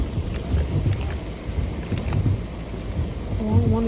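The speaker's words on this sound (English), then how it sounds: "I don't want that rain to touch me" Rain falls during a thunderstorm outside a parked car, a steady patter and wash of water with low rumbling underneath and a brief tonal sound near the end.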